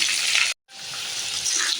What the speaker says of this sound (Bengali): দেখুন আলুগুলো ভাজা আমার হয়ে গেছে।